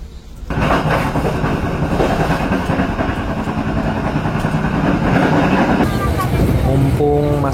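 The Airlangga passenger train rolls along the rails with a steady loud rumble and rhythmic wheel noise heard from inside the carriage, with a faint voice near the end.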